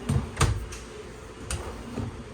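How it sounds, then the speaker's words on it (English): Kitchen drawers in a 2024 Forest River Salem Hemisphere 308RL travel trailer being opened and shut, giving several close wooden thumps and sliding rattles spaced through a quiet interior, with no talk. "2 more drawers right down below it."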